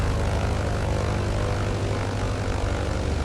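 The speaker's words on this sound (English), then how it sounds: "Listen to those engines." Loud, steady drone of the twin propeller engines of a BN2 Islander in Microsoft Flight Simulator 2020, a constant throbbing hum with strong low tones and no talking.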